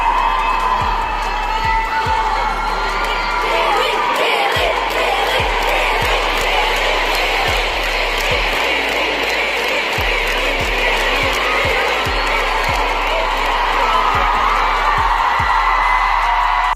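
A concert crowd of fans cheers and chants the singer's name loudly and continuously, a dense wall of massed voices with rhythmic low thumps running beneath it throughout.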